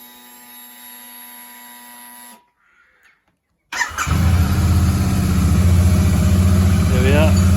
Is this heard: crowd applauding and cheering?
no